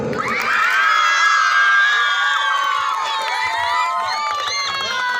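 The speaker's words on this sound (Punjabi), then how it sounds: "ਤੁਹਾਡੀ ਜ਼ੋਰਦਾਰ ਤਾੜੀਆਂ ਦੇ ਨਾਲ" A village crowd at a Lohri competition for girls cheers and shouts loudly, with children's high voices whooping over a steady roar, sustained and close for the whole stretch.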